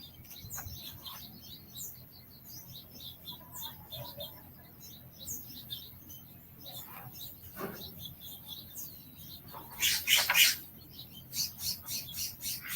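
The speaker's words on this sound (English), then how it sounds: "Oh my goodness, it's the dove." A dove calls near a tiny house in California, with soft bird calls and chirps repeating over low outdoor background noise and a brief louder rustle near the end.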